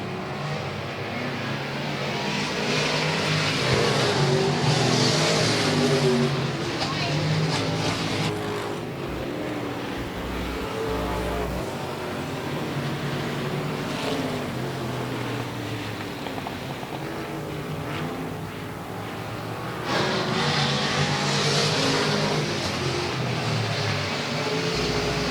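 Race cars roaring around the oval at South Texas Speedway during a close battle for the lead, a continuous loud engine drone with rising and falling pitch as the pack passes through the turns, surging louder near the end.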